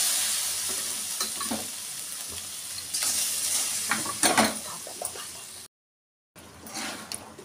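Unpolished rice goes into a frying pot of khichdi with a continuous close sizzle, scattered clinks of a spoon against the pot, and a brief full cutout near the end before the frying resumes.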